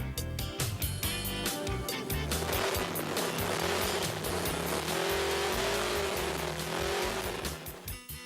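A vintage car driven on the road, its engine note loud and continuous throughout with a steady mechanical drone and occasional tire noise, no talking.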